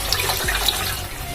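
Water is poured steadily into a tank while an alarm is tested, a continuous rushing, splashing flow with no pauses or voices.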